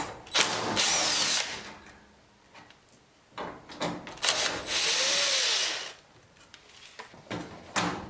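A cordless power drill backs screws out of the cord clamps on a clothes dryer, with two loud whirring bursts and shorter spins between them, plus clicks and rattles of metal parts close by.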